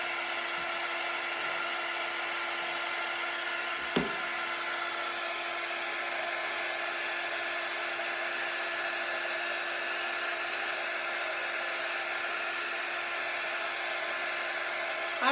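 A hair dryer blows steadily on a DIY craft project, a loud continuous whooshing whine with one brief knock partway through and no talk.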